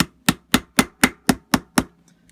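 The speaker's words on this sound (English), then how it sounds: "We're going to start it with our hammer." A hammer drives a pin into the front sight of an M1 Carbine with eight sharp, evenly spaced metallic taps, loud and close, with nothing else heard.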